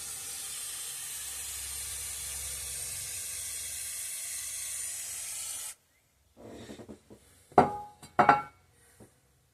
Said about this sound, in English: And actually just kind of sprayed out the whole pan.